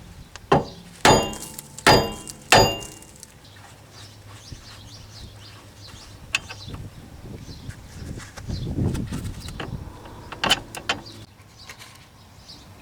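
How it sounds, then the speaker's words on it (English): A hammer strikes the rear hub of a 1998 Corvette C5 to knock a ball joint loose, giving three loud, ringing metallic blows in quick succession, then a few lighter scattered knocks and some shuffling. "hit it with a hammer, and knock that ball joint out of there"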